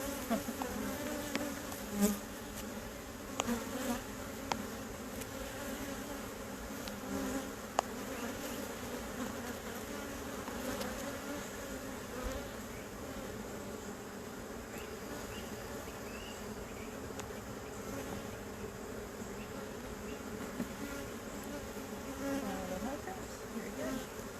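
Honey bees buzz steadily around a defensive hive in the morning, a dense, even drone of many insects close by with faint passing individual flights.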